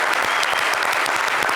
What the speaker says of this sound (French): C'est à applaudir.